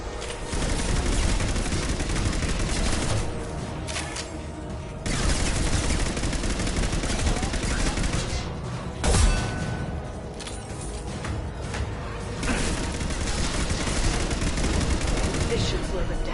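Sustained bursts of automatic gunfire in the video game Mass Effect 2, loud and dense, with brief pauses between long volleys and a sharp single blast partway through.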